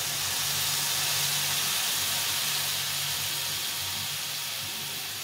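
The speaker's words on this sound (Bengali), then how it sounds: "এই ঝোলটা ফুটে উঠেছে" A mustard tilapia curry comes to a boil in a pot, a steady, close, broadband hiss of bubbling that holds unchanged throughout with no other sounds standing out.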